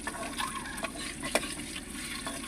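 An egg fries in a pan on a home stove, giving a soft, faint sizzle with a few light scraping or stirring clicks.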